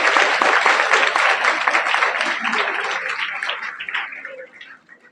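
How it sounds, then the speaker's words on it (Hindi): Loud applause at an inter-college event in India, with dense clapping from a large audience close by that gradually thins and fades toward the end. "एक बार जोरदार तालियां बजाएं।"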